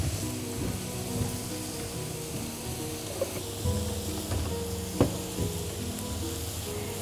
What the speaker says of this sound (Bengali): নুসরাত তুমি এটা একটু নাড়ো